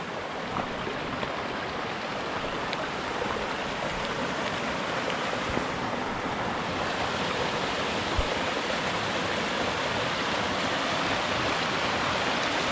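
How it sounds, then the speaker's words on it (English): Waterfall in the forest near Borșa, Romania: a steady, dense rush of falling water fills the scene at close range, unbroken and fairly loud with no voices over it. "yeah you can see the waterfall going down all the way here"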